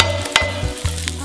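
Chopped onions fry in a hot pan with a steady sizzle, broken by a few stirring scrapes and clinks, and no voices.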